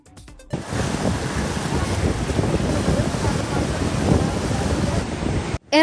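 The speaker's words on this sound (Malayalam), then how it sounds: "എറണാകുളം ജില്ലയിലെ തീരപ്രദേശങ്ങളിൽ ഇന്നും കടലേറ്റം ശക്തമായിരുന്നു." Strong sea surge waves pound the Ernakulam coastline at Kannamali during heavy rain, a loud, close, continuous roar of surf with wind buffeting the microphone.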